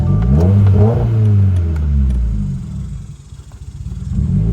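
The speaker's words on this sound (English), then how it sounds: "So we'll try and get it started real quick, just because of all the seafoam that's kind of there in the system, and it's gonna smoke." Car engine after a Seafoam treatment, cranking and then catching with loud, close revving and a deep rumbling idle that wavers as if struggling to stay running, with no talk.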